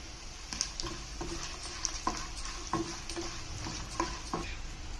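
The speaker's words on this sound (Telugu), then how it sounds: "ఇవి ఫ్రై అయినాక ఎండుమిరపకాయలు వేస్తున్నా కొంచెం జీలకర్ర కూడా వేస్తున్నా" Dried red chillies and cumin seeds frying in hot oil for a Telangana brinjal and tomato chutney, a steady close sizzle broken by spoon stirs and light ticks, with no talk.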